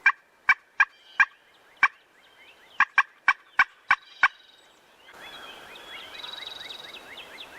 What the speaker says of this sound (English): She's clucking and putting and clucking.